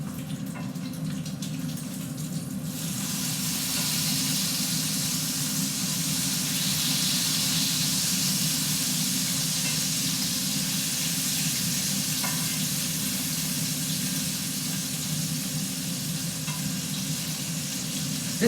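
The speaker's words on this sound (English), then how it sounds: "So, I continue to flip my bacon." Bacon sizzling and frying in a hot pan set around 400, a steady loud crackling hiss with occasional pops that runs for the whole stretch with no talking.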